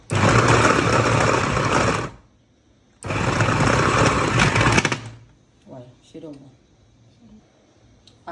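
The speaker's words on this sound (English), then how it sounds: "I have my cassava and the processor, so let's get started. Let's process it." A food processor processing cassava runs in two loud, steady whirring bursts of about two seconds each, close up, followed by a voice talking briefly after the motor stops.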